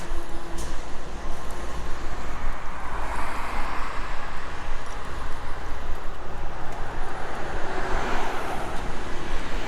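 A truck speeds past on a road in Ishikawa, Japan, a loud continuous roar of engine and tyre noise that swells and recedes amid steady traffic, heard from close by the roadside.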